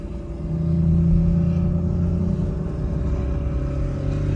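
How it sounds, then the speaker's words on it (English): A catless Chevrolet Camaro SS exhaust drones at night, a loud, steady low rumble that swells slightly early on and holds, heard up close without any talk. "So y'all can hear how loud his car is because it's crazy loud."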